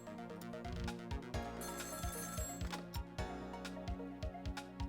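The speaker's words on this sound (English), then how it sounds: "Now we have to be part of this phone call." A telephone rings in the video game Ghost Trick with a repeated electronic ring. It sits over a rhythmic mechanical game soundtrack with regular thumping beats, all fairly quiet.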